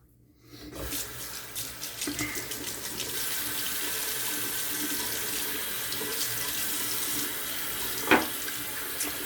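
Cold tap water runs steadily into a sink for a shaving brush rinse, a continuous close hiss and splash with a brief louder gush near the end, no talking.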